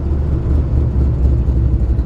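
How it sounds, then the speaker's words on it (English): A 1953 Chevrolet 3100 pickup's 350 V8 with a mild cam, headers and Flowmaster dual exhaust rumbles at a steady, deep idle, loud and close, while still warming up. "It's got a dual exhaust with Flowmasters. They sound awesome."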